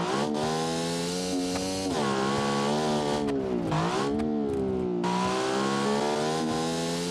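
A small V16 race car engine in a video game revs hard on a track, a loud continuous high-pitched howl that climbs, dips briefly as it shifts, then climbs again, close and steady with no talking.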